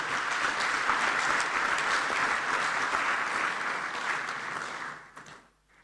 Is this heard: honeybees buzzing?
no